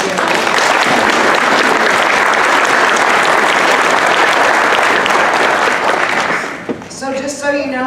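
Sustained, loud applause from a banquet audience honoring community members, a dense wash of clapping that fades out near the end as a voice begins speaking.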